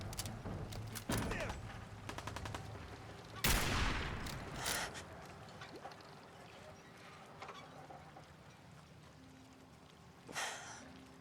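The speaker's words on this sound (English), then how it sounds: "Open fire!" Gunfire in Fallout 4 with a few sharp shots and short bursts spaced across the clip, fairly faint overall, against a low steady game background.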